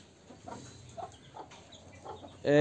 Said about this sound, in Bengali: এটা দেশি মুরগি।